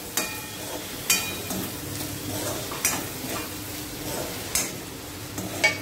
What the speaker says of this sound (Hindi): अभी हमारे आलू फ्राई हो चुके हैं